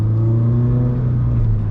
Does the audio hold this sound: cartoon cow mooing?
no